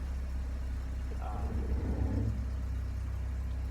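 A 1987 Porsche 944 engine idles smoothly at about 1,000 RPM with a low, even rumble, steady throughout, with a brief swell of mid-range noise partway through.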